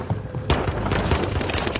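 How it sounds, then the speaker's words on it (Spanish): Rapid bursts of gunfire in an online shooter video game on a new map, dense overlapping shots and booms rattling continuously for about two seconds, loud and close. "Son tiros."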